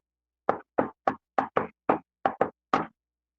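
A distinctive rhythmic knock on a door: nine sharp raps in a patterned sequence with short pauses between groups, close and alone in silence.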